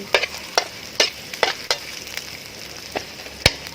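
Sliced shallots and palm sugar being stir-fried in a pan for a shrimp paste and pork dish: repeated scraping spatula strokes at an irregular rhythm over a steady sizzle, close and moderately loud, with no talk.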